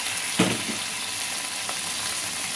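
Tuna chunks sauté in a pan with browned garlic, giving a steady close hiss of frying, with a soft stir or thump near the start and another faint knock later.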